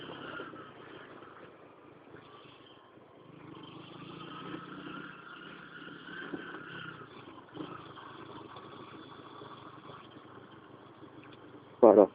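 A motorcycle engine hums steadily as the bike is ridden toward a college campus, a muffled, low drone that rises and falls gently with the throttle, ending in a sharp burst of noise.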